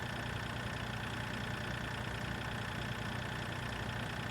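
A small tractor's engine idles in Farming Simulator 2013 on the Idaho map, a steady, continuous low rumble with a faint knocking texture that holds evenly throughout with no talking.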